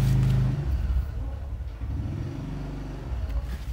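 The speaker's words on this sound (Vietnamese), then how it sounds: "xe máy thì hàng xóm về nó hơi ồn các bạn." A neighbour's motorcycle idles and revs nearby, a low rumbling engine drone that stays loud throughout while someone talks over it.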